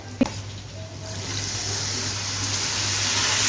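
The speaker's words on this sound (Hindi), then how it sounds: "थोड़ा सा पानी ऐड करेंगे ताकि मसाले ना जल जाएं।" A little water added to ground, dry-roasted spices frying in a pan for chicken nihari, giving a short splash followed by a steady, loud hiss and sizzle that builds and keeps going.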